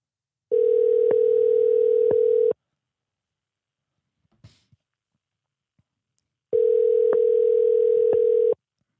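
A telephone line rings out while a call is placed: two long, steady electronic tones about two seconds each, separated by a silent gap of roughly four seconds, loud and close.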